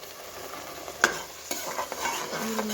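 Onion and garlic fry for mint rice in a pot, a bright continuous sizzle with spoon scrapes and knocks against the vessel, heard up close with no talking.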